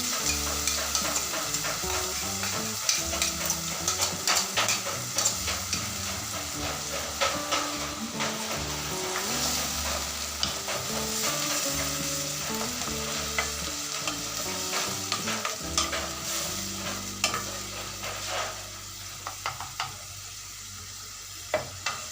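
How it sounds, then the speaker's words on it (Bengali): Onions fry and sizzle in a pan for a Bengali palak paneer, with steady crackling hiss and frequent scraping stirs throughout, loud and close, no talking. "পেঁয়াজগুলো খুব বেশি ভাজবো না, একটু লাল হলে পেস্ট করে রাখা পালং শাক দিয়ে দেব।"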